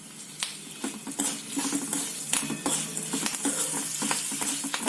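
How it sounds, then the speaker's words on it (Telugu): Curry leaves hit hot tempering oil after asafoetida, spluttering and sizzling in sharp bursts of crackle, with a spoon stirring and clinking against the pan, close and without talk. "పోపు వేగింది. కరివేపాకు వేస్తున్నాను."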